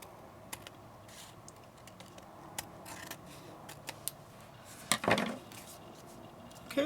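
Scissors cutting paper for a double pocket tag craft: quiet, scattered snips and clicks at close range, with a brief louder rustle of paper handling near the middle.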